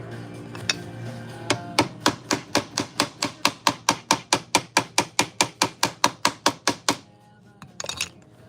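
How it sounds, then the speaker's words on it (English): Rapid, evenly spaced metallic hammer taps seating frets into a guitar fretboard during a repair, about two dozen sharp close strikes in a steady rhythm, then a pause and a brief scuffling clatter. "definitely hammering before you start sanding, you can definitely seat these more inside"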